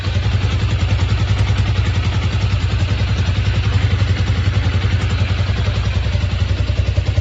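A 164FMM motorcycle engine runs steadily after a crankshaft repair, a close, loud, even idle with rapid regular firing pulses and a light mechanical clatter throughout, no voices.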